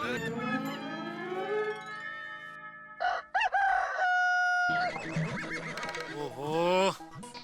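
A man in a Hindi sitcom scene does a loud, drawn-out vocal imitation of a rooster's cock-a-doodle-doo, crowing several times with rising and falling pitch.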